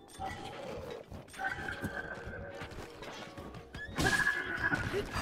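Stalhorse, the skeleton horse in the video game The Legend of Zelda: Breath of the Wild, gives whinnies and neighs, with a louder, harsher burst near the end, over quiet game sounds.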